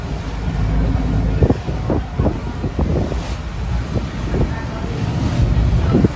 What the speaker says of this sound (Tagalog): medyo rough na nga yung alon, malakas yung hangin, may dumaan pang speedboat